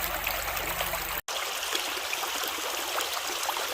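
Water and gravel wash steadily through a Pirate sluice carrying half-inch material after a bucket is poured in, a close, continuous rushing trickle with a brief cut near the start, no talk.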